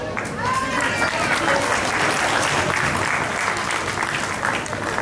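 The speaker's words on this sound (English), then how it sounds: "please motivate them with a big round of applause" Steady round of applause from parents and students at a school prize distribution, loud and continuous for the full stretch, with a faint voice briefly audible near the start.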